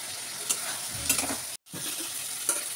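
Spice mixture stirred in a pan while it sizzles and fries, with steady scraping strokes and a few louder stirs, plus one brief dropout partway through.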